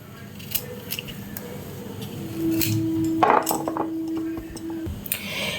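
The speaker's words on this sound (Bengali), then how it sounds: "আমি গাজরগুলো এবার এদিকের মুখটা এভাবে পরিষ্কার করে কেটে নেব" A knife cuts the ends off peeled carrots, giving a few crisp chops and taps against a board over a low steady tone and faint background noise.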